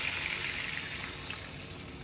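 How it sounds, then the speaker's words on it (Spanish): A cup of water pours into a zucchini stew seasoned with cumin for Salvadoran tortas de calabacitas, making a steady, close, hissing splash that lasts the whole short moment. "Y ahora le voy a poner una taza de agua."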